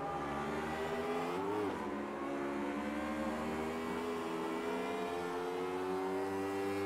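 1991 Formula 1 cars racing at Suzuka in Automobilista 2, a dense, unbroken drone of several high-revving engines layered together, pitch shifting slightly as they hold speed and pick up throttle.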